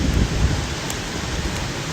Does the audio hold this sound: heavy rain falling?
yes